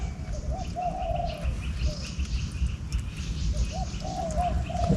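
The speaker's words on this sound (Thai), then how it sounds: "เสียงนกเขาครับ" Soft, hollow dove coos repeat in short phrases over a steady outdoor background hum by a river in northeastern Thailand, moderately distant.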